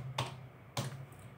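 Keys are pressed while typing a password on an Acer Aspire A515-51G laptop keyboard: two faint, crisp clicks about half a second apart in a quiet room.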